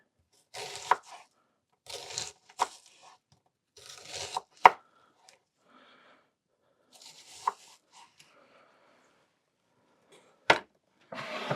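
Onion and vegetables chopped with a knife for a lamb tagine, heard as irregular clusters of crisp, close chops with short pauses between bursts and no talking over them.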